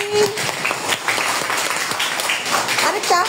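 A small group claps after a child sings a nursery song, a brief burst of applause mixed with voices talking over it close by.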